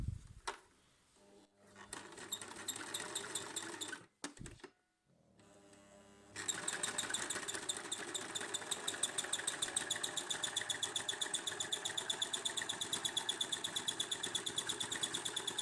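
A sewing machine stitches a cotton fitted face mask, starting with a few short handling noises and pauses, then settling into a steady, fast, evenly pulsing run of stitching that continues close and clear to the end.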